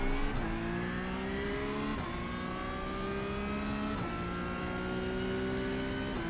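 A Mazda MX-5 races at Lime Rock in iRacing, its engine whining up through the rev range with rising pitch, brief dips at each of several gear changes, steady and alone.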